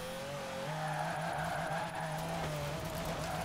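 A continuous high-revving V12 engine drone in a Formula Drift racing video game holds steady with slight pitch wavers, loud and constant throughout, with no talking.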